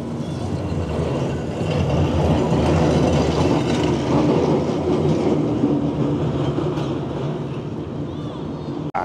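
Blackpool's illuminated boat tram rolls past at night with a loud, steady rumble and rattle of wheels on track, building and then easing off.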